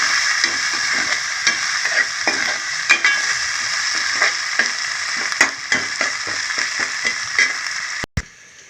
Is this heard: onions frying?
yes